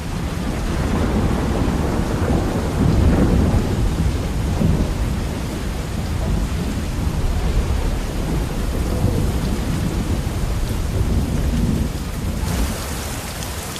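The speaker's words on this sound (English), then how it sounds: "Far in the distance, the champion wrestler Chumin tries to brave the oncoming storm." A heavy thunderstorm rolls over a Yawalapiti village in the Brazilian Xingu. Dense, loud rain falls steadily throughout, with deep thunder rumbling beneath the downpour.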